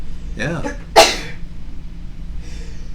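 A single sharp sneeze bursts out close by, right after a short spoken word, followed by quiet room tone.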